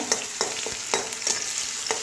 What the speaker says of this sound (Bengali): এবারে পেঁয়াজটা ভেজে নিচ্ছি। আগে কাঁচা লঙ্কা, শুকনো লঙ্কাও দিয়ে দিচ্ছি, একসঙ্গে সব ভেজে নেব।